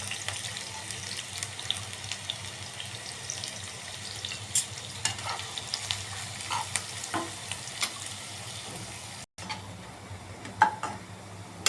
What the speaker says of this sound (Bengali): তেল দিয়ে আমি পেঁয়াজ বেরেস্তা করে নিব